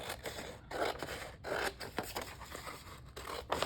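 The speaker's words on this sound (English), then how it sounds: "So I'm just going to cut this." Scissors cut paper for a junk journal in a series of soft, close snips and scraping slides, quiet and rhythmic with brief gaps between cuts.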